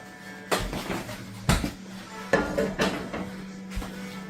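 Two silicone spatulas work through a hot pan over low heat with scattered knocks and scrapes, around five distinct clattering strikes over a low steady hum, fairly close and moderately loud, with no talking.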